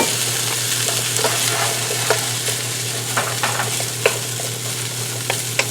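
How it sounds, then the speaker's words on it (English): Chopped leftover pork roast frying and being stirred in a pan, a steady close sizzle with scattered sharp pops and spatula scrapes, no talking. "In the same pan, I'm just going to throw this chopped up pork roast and warm that up."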